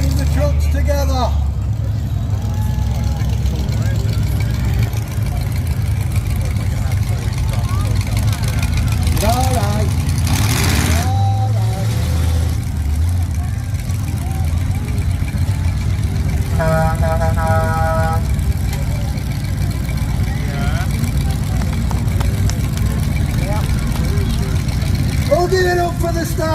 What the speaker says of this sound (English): Those are the monster trucks, Big Pete and the Grim Reaper